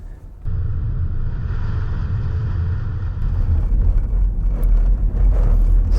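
Audi Q8 e-tron electric SUV accelerating in off-road mode, heard from inside as a steady low road and drivetrain rumble that swells and grows rougher as speed builds.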